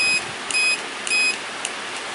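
Beeps from a rechargeable BT6 no-bark collar as its button is pressed: four short, evenly spaced high tones, each lasting about a quarter second, clear and close with no voices.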